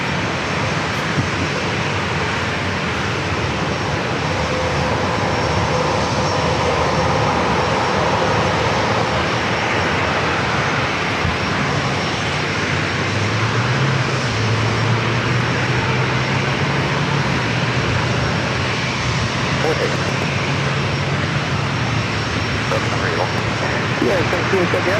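A United airliner takes off from runway 27 at San Diego airport, its jet engines a loud sustained roar with a rising low drone that holds steady throughout.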